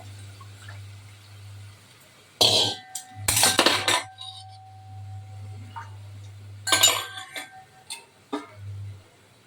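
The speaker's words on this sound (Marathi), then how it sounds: "वरीचा भात हे धुवून घेते मी भांड" Varai rice (barnyard millet) being washed in a metal pot, heard as bursts of clinking, scraping and sloshing against the vessel over a steady low hum, close and moderately loud, with no talk.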